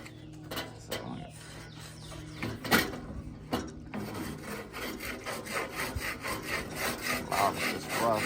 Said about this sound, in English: let me try to scrape this grill